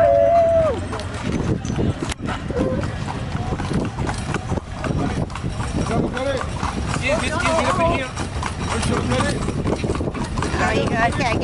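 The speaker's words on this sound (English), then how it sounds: "We're on a horse and carriage" Horse hooves clip-clop at a steady, rhythmic pace as a horse pulls a carriage through busy Cairo, heard close under loud street noise and people talking.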